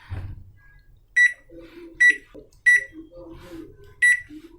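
A microwave oven with its touch panel under repair sounds repeated sharp electronic beeps, four clear pulses about a second apart, over a low running hum, near and fairly loud, with faint voice-like murmur between them.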